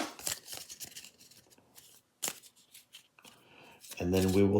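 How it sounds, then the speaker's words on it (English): Quick rustling riffle of cards near the start, followed by light card handling and a voice speaking briefly near the end. "and then I'll do a shuffle."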